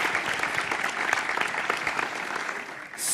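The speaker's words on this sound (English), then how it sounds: "big round of applause" Applause from a conference audience for a startup pitch speaker on a tech event stage, steady dense clapping throughout, fading slightly near the end.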